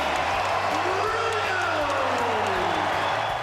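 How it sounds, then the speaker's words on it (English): A Target Center basketball arena crowd cheers as a player returns to the floor, a dense roar heard far off under a steady low hum with a rising tone. "listen to this Target Center crowd"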